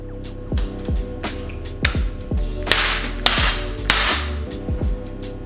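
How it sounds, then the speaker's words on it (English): A hammer lightly taps the lower legs of a 2021 Marzocchi Bomber Z2 mountain bike fork to break the seal free, a series of sharp metallic knocks with ringing tails at an uneven pace, close, over a low hum. "we're just gonna lightly tap until we break it free, the seal free"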